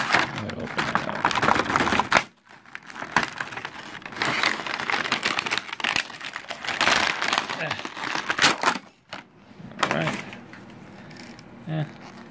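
Loot crate packaging being opened, close plastic crinkling and crackling in bursts with brief pauses, a person talking intermittently over it.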